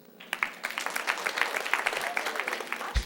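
A comedy club crowd at Crackers in Indianapolis breaks into applause during a stand-up set, a quick burst of many hands clapping in a lively, slightly uneven rhythm that swells and holds for a few seconds.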